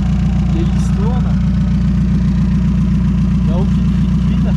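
A 1986 Renault Espace engine, fully warmed up and running with a free exhaust, drones at a steady, loud idle-like rumble with a deep pulsing throb throughout, with faint chirps above it.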